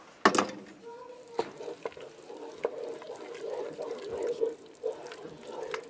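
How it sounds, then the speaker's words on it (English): Broccoli cheese soup with cream and onions is stirred in a pot, giving soft scraping and liquid swishes with a few sharp clinks, all quiet and close. "So I'm going to give this a stir."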